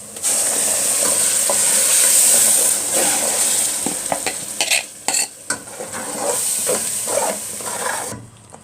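Tomato hitting hot oil in a pan for Upper Egyptian taqliya, a loud steady sizzle and hiss with brief stirring clatter midway, close by and with no talk.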